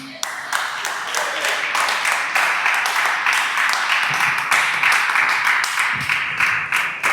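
A Pentecostal church congregation in Caraguatatuba claps together in praise, dense continuous clapping filling the room, with voices and cheers mixed beneath it.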